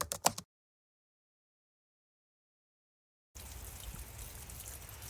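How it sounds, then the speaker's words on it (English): Heavy rain from Hurricane Francine comes as a dense, steady broadband hiss that begins abruptly after a silent gap. A short burst of similar noise precedes the gap. "the more rain that we've been getting, but the winds haven't been as bad"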